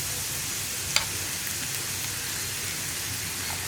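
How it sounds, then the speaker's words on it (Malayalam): Onions and prawn curry base sauté in a pan, giving a steady, dense hiss of frying with one brief clack near the start, close and constant, no voices. "ഇനി ഇത് രണ്ടും നന്നായിട്ടൊന്ന് വഴറ്റിയെടുക്കുക."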